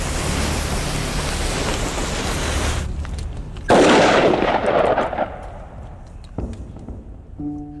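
Gunpowder packed in a gourd with a thin clay lining burns with a loud, roaring hiss, then a sudden harsher burst erupts midway and slowly fades into scattered crackles.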